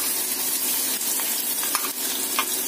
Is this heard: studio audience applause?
no